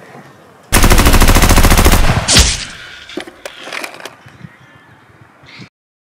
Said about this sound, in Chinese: 哇，好大的枪声啊！